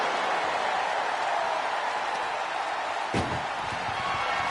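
In a WWE wrestling video game ambulance match, a single heavy door slam on the ambulance cuts through a constant roaring arena crowd, landing as one sharp thud late in the moment.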